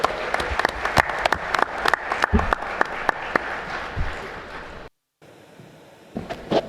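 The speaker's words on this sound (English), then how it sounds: "Kindly give a big round of applause to the panel" A conference audience applauds the panel after a session on drones and India's infrastructure: loud, dense clapping with sharp individual claps standing out. It breaks off abruptly into a brief silence, then returns as softer, thinner room noise.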